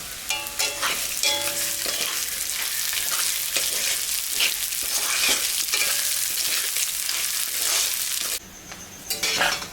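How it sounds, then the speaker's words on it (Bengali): Moong dal fries in a pan while being stirred, a steady bright sizzle broken by repeated scraping strokes of the spoon, loud and close, with no talking. "ডালটা ভাজা হয়ে গেছে বন্ধুরা"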